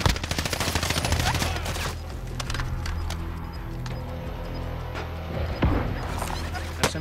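Rapid SMG bursts ring out in the Zombie Royale video game, a dense chatter of shots at the start and then sporadic cracks, with a player's voice talking over them.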